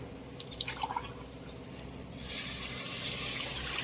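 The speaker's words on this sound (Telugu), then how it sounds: "కేజీ రైస్కి సరిపడా వాటర్ వేసుకుందాం." Water pours into a pot of rice for chicken mandi, starting as a few light drips and splashes, then swelling into a steady, close, continuous gushing stream for the last couple of seconds.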